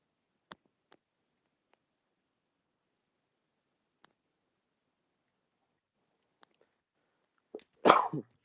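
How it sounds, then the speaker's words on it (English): A single sharp cough bursts out near the end after near silence broken only by a few faint clicks, loud, close and brief. "It's good to cough."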